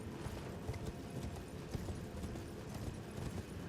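A horse's hooves clip-clop in the video game Elden Ring, a quick steady run of soft thuds under a dense ambient game background.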